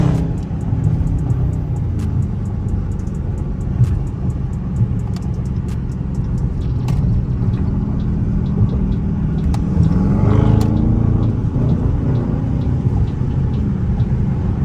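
A Dodge Charger R/T accelerates with newly fitted paddle shifters, its engine rumbling loudly and rising through a pull, with a shift-like change in tone partway through.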